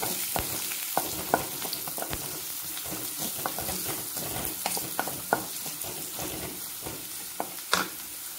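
Onions sautéing in hot oil with curry leaves for kara kozhukattai, a steady close sizzle broken by repeated clinks and scrapes of a spoon stirring the pan, with a sharp knock near the end.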